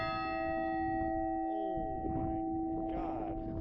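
A 250-pound half-scale granite-museum replica of the Liberty Bell rings with a bright sustained tone and long humming overtones that hang and decay slowly, with faint voices murmuring underneath.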